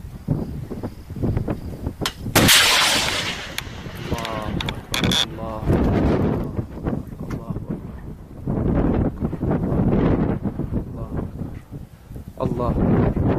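Weapon fire aimed at a tank on a hill in a combat zone, heard as loud sharp bursts near the microphone amid heavy wind noise, with people talking and shouting around it.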